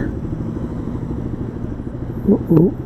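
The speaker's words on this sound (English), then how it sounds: "I don't want to change exhaust because it is actually the perfect" A Kawasaki KLX 300 dirt bike idles with a low, steady rumbling exhaust putter, close by, with a couple of brief blips near the end.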